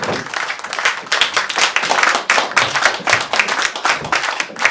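Loud, close applause from a concert audience, with quick irregular hand claps continuing without pause.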